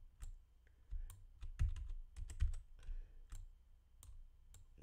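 Clicky typing on a computer keyboard, with irregular bursts of quick keystrokes, close and fairly quiet, with no talking.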